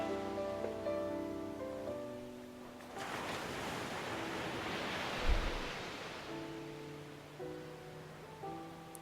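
Ocean waves wash onto a shore in a soft surge of surf lasting a few seconds, rising and fading between gentle sustained tones of calm meditation music.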